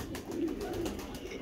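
A red-eyed pigeon coos in a low, steady murmur, close and continuous, with faint background noise.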